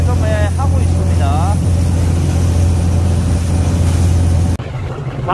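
A fishing boat's engine runs hard out at sea, producing a loud, steady low drone that holds throughout, with a voice talking over it, until it cuts sharply near the end.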